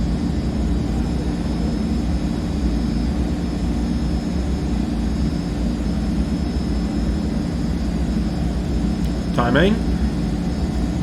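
Simulated C160 Transall turboprop engines at full takeoff power in a flight simulator: a steady, loud, broadband engine roar that stays constant throughout, with a brief rising whine near the end and a short spoken word over it.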